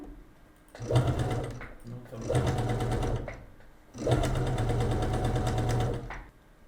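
A sewing machine stitches patchwork hexagons, running in three loud bursts of rapid mechanical whirring separated by short pauses, ending with a backstitch.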